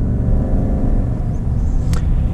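A 2020 Chevy 1500 High Country pickup with the 6.2-liter V8 accelerates, heard from inside as a loud, steady low engine rumble with road noise and a brief high squeak near the end.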